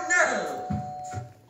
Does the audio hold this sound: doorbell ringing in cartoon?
yes